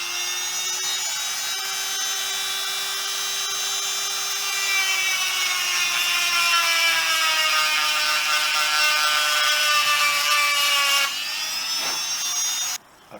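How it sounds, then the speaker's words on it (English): A knockoff Dremel-style rotary tool deburrs an aftermarket clutch lever for a Honda XL250S, a close, steady high whine that holds for about eleven seconds, then its pitch drops as it cuts off. "grab my Dremel tool, my Dremel knockoff tool, and just run it lightly around the inside just to remove some of the burring"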